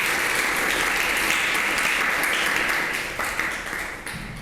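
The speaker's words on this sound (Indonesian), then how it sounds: "Berikan aplaus untuk teman kalian." A classroom of students breaks into loud, dense applause for a classmate, many hands clapping at once close by, sustained and then tapering off toward the end.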